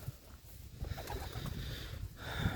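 Czech yellow show pigeons settling into a new pigeon loft, giving soft, low cooing calls close by, with occasional wing flutters and shuffling.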